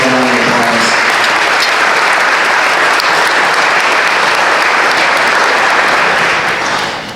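A banquet crowd at the Huntsman World Senior Games applauds loudly, sustained clapping from many hands that holds steady for several seconds before tapering off at the end.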